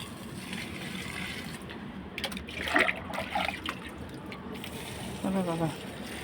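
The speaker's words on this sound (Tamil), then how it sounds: "தண்ணி கொண்டாந்து எல்லாத்துக்கும் தண்ணி ஊற்றலான்னு வந்திருக்கேன்" Water splashing and trickling in short pours onto soil in potted plants, quiet and close, with a brief faint voice near the end.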